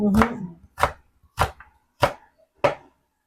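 Five sharp knife chops through carrots on a cutting board, evenly spaced about half a second apart, close and distinct with brief quiet gaps between strikes.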